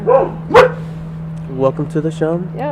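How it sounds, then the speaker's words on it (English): Dogs bark in the background at a home with street construction nearby, a couple of sharp barks near the start followed by a run of short yips, heard under and between a man's speech and a steady low hum. "I'm, sure you can hear the dogs in the background."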